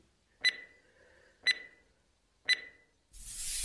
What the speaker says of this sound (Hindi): हम लोग अब टाइमर चलाएंगे